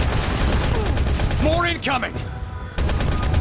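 Dense, continuous turret gunfire in the mobile shooter Modern Combat 5, a loud sustained barrage that briefly thins before resuming, with game voices and player chatter layered over it.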